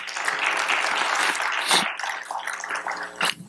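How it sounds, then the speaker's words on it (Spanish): A church congregation at a Baptist service bursts into clapping, loud and dense at first, then thinning into scattered claps with a brief late flurry. "Dele palmas a Cristo una vez más."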